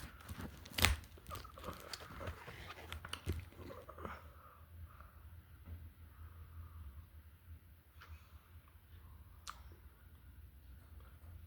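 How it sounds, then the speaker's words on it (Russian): Packaging around a pencil set being torn open and crinkled, with sharp tearing and crackling bursts early on that fade to faint rustles and clicks, close and without speech. "Давайте же уже откроем эти карандаши."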